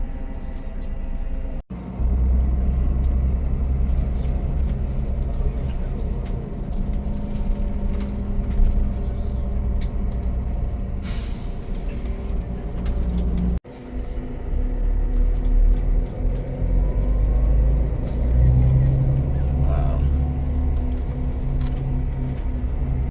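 A tour bus on a day ashore in Albania drives along, its engine rumbling low and steady with road noise throughout. A couple of brief dropouts break the sound, and no one speaks.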